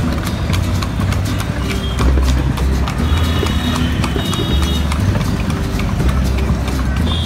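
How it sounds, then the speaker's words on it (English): Horse pulling a cart along a road in Agra, India, with steady rhythmic hoof clip-clops close by over traffic and engine noise, throughout the whole stretch. "we're on a horse and cart right now"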